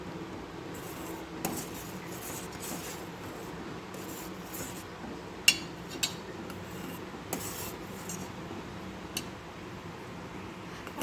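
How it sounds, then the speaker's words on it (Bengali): Egg rabri stirred in a pan: a steady, soft scraping and rasping of a spoon against the pan, with occasional sharper clinks of metal, close by and without talk. "এবারে আমি ভালো করে নাড়ব।"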